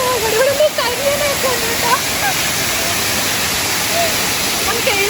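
Areekal waterfall pours as a loud, steady rush of falling water, with a person talking over it early on.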